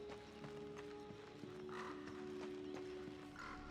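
Horse hooves clip-clop faintly in Darksiders 2, a quiet irregular patter of steps under a low ambient hum, with no one talking.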